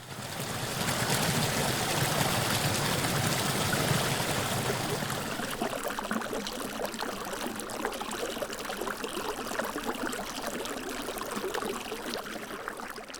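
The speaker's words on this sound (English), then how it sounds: "A small waterfall runs into a shallow pool of water." Steady rushing water from a small waterfall pours and splashes continuously into a shallow pool in Sequoia and Kings Canyon National Parks, a dense close wash of sound with no voices.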